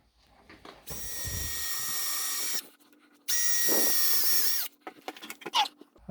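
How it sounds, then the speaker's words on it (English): A power drill whines loudly in two sustained bursts, each about two seconds, biting into a plaster wall, followed by short clattering and handling noises. "And then when I go in with the big drill,"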